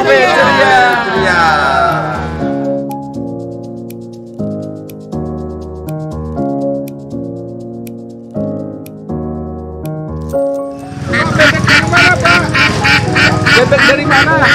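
Ducks quack in loud bursts amid the bustle of a busy market, the calls clustering at the start and again near the end, with crowd chatter and steady tonal tones between them.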